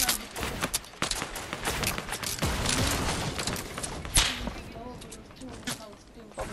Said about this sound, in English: That's the guided missile!